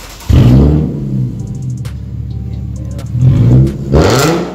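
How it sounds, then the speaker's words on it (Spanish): Car engine with modified exhaust pipes revving hard: a loud roaring burst, a lower idle with faint clicks, then two more throttle blips rising and falling close by. "Ahorita voy a dejar otros acelerones del carro."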